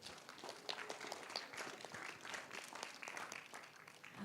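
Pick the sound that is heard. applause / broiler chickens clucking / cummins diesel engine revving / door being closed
applause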